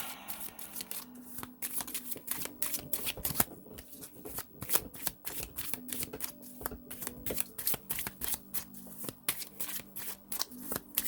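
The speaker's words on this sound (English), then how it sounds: "Let's pull a love card and see." Tarot cards are shuffled by hand for a love reading, a continuous run of crisp riffling and flicking card sounds in rapid irregular bursts, close and fairly quiet, with no talking.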